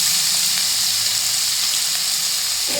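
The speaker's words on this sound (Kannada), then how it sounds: "ಇವು ಸ್ವಲ್ಪ ಫ್ರೈ ಆಗಲಿ" Spices sizzling in hot oil as they fry for paneer kurma masala: an unbroken, close crackle and hiss holding at an even loudness throughout.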